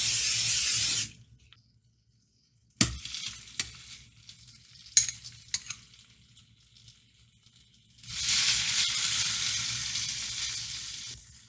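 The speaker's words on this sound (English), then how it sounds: "So in the pan, you can hear it sizzling." Chicken sizzles in a pan coated with cooking spray, with crackling and spatters heard close up. A stretch of quiet sits in the middle with scattered clinks and taps, and the steady frying hiss returns at the end.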